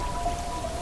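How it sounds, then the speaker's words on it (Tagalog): Heavy rain pouring steadily as a backing effect in a Tagalog horror narration, a dense continuous wash with no talk over this moment. "buhos ng ulan."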